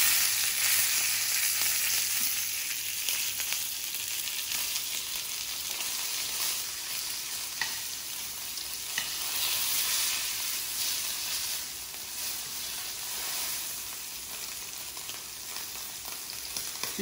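Pork pieces of uneven shapes and sizes sear and brown in hot oil in a pan, giving a steady, close, unbroken hiss and crackle that holds evenly throughout.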